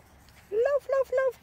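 A small Papillon dog playing on a meadow with puppies gives three short, high, whining yelps in quick succession, fairly close and clear over a quiet outdoor background.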